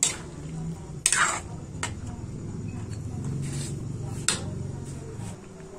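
A spoon stirs pork caldereta in a cooking pot with scraping clinks and soft sloshing under a low simmer, plus a few sharp metallic knocks against the pot.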